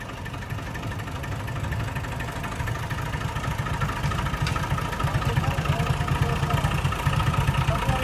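A Massey Ferguson MF 260 tractor engine runs steadily on a farm, a continuous low, rumbling drone that stays at even loudness throughout with no pauses.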